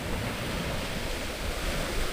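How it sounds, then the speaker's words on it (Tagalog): Strong sea waves wash onto the rocky beach of Camara Island, a continuous close surf roar mixed with wind buffeting the microphone, with no voices. "Ay, lakas ng alon."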